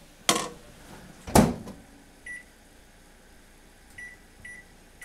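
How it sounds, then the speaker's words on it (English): Microwave oven melting butter: two loud clunks of the door and buttons near the start, then a low steady hum with a few faint beeps toward the end, no talking. "Put it in the microwave."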